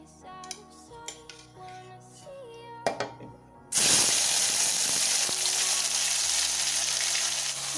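Pineapple dropped into hot oil with dried chilli, bay leaf and cinnamon. A few clinks come first, then a sudden loud, steady sizzle fills the rest of the clip.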